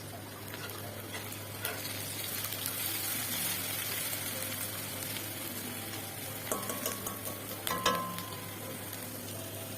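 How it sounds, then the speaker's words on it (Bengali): Onion, garlic and green chillies fry in hot oil for a jute-leaf dish, giving a steady close sizzle with scraping stir strokes and a few sharper clinks near the end. "পেঁয়াজ রসুন কাঁচামরিচ এখন এগুলো ভালো করে লাল করে ভেজে নিব"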